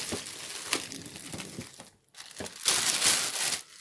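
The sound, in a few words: plastic film being unwrapped from a keyboard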